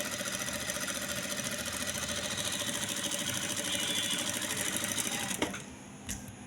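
An industrial sewing machine running at 260 speed while stitching a hem makes a steady, fast mechanical whir, loud and constant, before stopping abruptly near the end with a couple of brief clicks.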